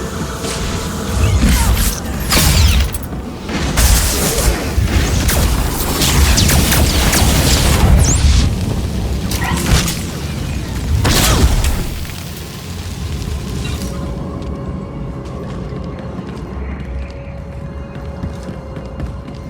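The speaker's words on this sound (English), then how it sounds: "Artillery incoming! Brace yourselves!" Artillery explosions in Star Wars: The Old Republic during the War for Iokath, a run of deep heavy booms and crashing blasts, loud and close, tapering into a quieter low rumble and hum near the end.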